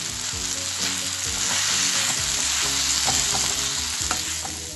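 Coconut, tomatoes and shallots roast and sizzle steadily in a pan, with spatula scrapes and stirring throughout, close and loud with no voices, while preparing a fish bone curry with salmon.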